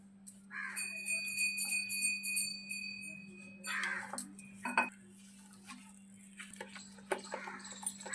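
Gram flour (besan) batter is whisked with water in a bowl: scattered light clinks and scraping taps of a utensil against the bowl, close and faint, over a steady low electrical hum.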